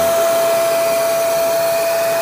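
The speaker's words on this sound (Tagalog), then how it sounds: "susubukan natin patayin, no? Yung ating vacuum para bumaba na yung load natin" A vacuum cleaner powered by a 3 kW Zamdon off-grid solar inverter runs continuously, a loud, steady, airy roar with a fixed whine, close by and unbroken, with no talk.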